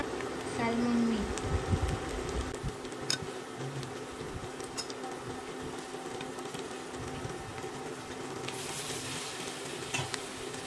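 Leftover salmon meat sizzles in a pan while being stirred, a steady crackling fry under occasional clinks, with a voice talking over it.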